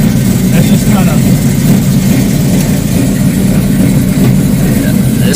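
A 1972 Plymouth Barracuda with a swapped 6.1L SRT8 Hemi V8 idles with a deep, steady, rumbling throb, loud and close, shaking the car, with a faint voice underneath.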